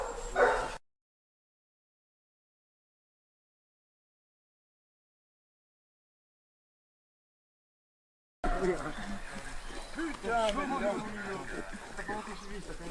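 Two Artois hounds on a roe deer hunt in Compreignac yelp and bark in an excited burst from across a road, then a long silent gap before more barking and whimpering alongside people talking.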